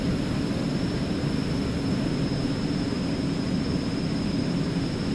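An Eclipse 550 jet in X-Plane 11 roars steadily through its takeoff run, a continuous broadband engine rush with a faint high whine and no talking.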